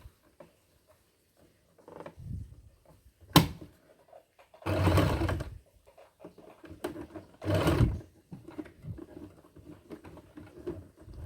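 A sewing machine stitching a churidar slit runs slowly in short bursts, two longer whirring runs of a couple of seconds each between quiet handling pauses and small clicks.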